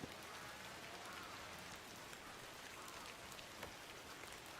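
Steady rain in the Ace Attorney video game, a continuous even hiss of falling drops with faint patters, loud and unbroken throughout with no voices.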